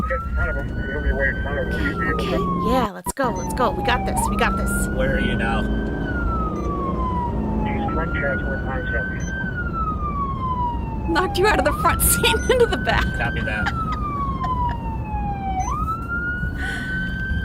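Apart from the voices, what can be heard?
ambulance siren passing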